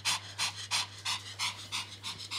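A Pomeranian spitz dog panting close to the microphone, quick regular breathy huffs repeating about three times a second, soft but distinct over a faint steady hum.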